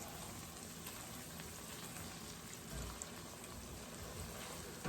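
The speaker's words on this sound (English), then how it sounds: "We're going to let this saute for another minute." Onion, bacon and minced garlic sautéing in a pan, a steady close sizzle and crackle that holds evenly throughout with no talking over it.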